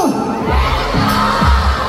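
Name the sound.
crowd of fans shouting Gento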